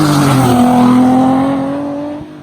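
A naturally aspirated engine in a 2008 Nissan 350Z revs loudly up and holds a strained, rising note before fading off at the end.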